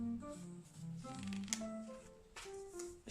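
Tarot cards being shuffled and drawn, a continuous papery riffle and slide of cards heard close and fairly loud, with brief sharper snaps as cards are pulled.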